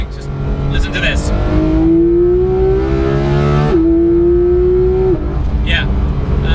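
A Porsche 991 GT3 engine revving hard through the gears, a loud rising whine that climbs, drops sharply at an upshift, then climbs again, close and sustained under faint voices.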